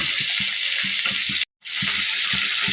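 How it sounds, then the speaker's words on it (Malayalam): Fish pieces fry in a hot pan, a loud, steady close-up sizzle with dense hissing spatter that cuts out for a split second and then resumes. "മീൻ കഷ്ണങ്ങൾ നമുക്ക് ഇതിനകത്തേക്ക് ഇട്ട് കൊടുക്കാം ഇതൊന്ന് ഫ്രൈ ആവട്ടെ"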